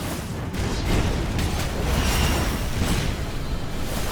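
Repeated bomb blasts in the video game Skul: the Hero Slayer, a loud, dense roar of overlapping explosions rumbling continuously without a break.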